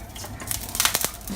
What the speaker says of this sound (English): I'm gonna spread it with this spatula